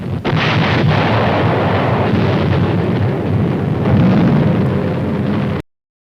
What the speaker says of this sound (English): the first mass bombing from the air of a helpless civilian population